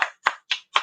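Four quick, sharp hand claps in an even rhythm, close and crisp, a small round of self-applause.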